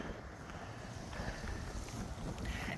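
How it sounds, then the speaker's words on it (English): Gusty wind buffets the microphone outdoors on a cold late-November walk, a faint continuous rushing with soft swells and no voices. "It's also gotten windy."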